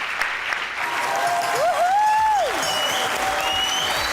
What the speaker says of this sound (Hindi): राबिया के लिए तालियां होनी चाहिए भाई